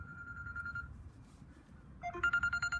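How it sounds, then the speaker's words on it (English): A phone ringtone plays quietly at first, then a louder electronic ring repeats in rapid pulsing bursts near the end, with no speech. "Apologies there, got the phone ringing."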